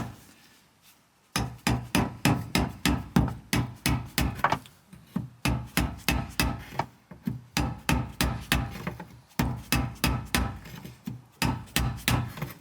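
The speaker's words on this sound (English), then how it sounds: "And then we're going to hammer this." Steady hammer blows on wood, struck in quick rhythmic bursts with brief pauses between runs, loud and close.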